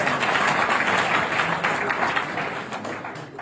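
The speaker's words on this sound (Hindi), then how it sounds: "एक बार जोरदार तालियां इनके लिए हो जाए" Audience applause at a Ruby currency plan presentation, a dense steady wash of clapping from a crowd that holds strong and slowly tapers toward the end.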